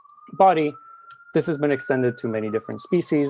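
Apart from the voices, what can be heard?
emergency vehicle sirens outdoors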